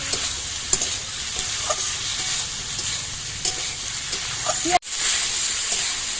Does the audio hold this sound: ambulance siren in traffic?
no